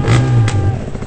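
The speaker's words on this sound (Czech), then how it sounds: "dá do toho naprosto všechno, zatáhne za plyn, je to Milan Beroš!" Revving of a KTM EXC300 enduro motorcycle at an extreme endurocross race, a loud, close throttle blip lasting about a second with a strong low engine drone under crowd noise.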